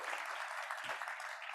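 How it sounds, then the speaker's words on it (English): A short, fairly faint burst of steady applause comes from a Kiwanis club meeting audience in Raleigh, continuous clapping with no voices over it. "How about a round of applause for Alan and Burton for everything they do?"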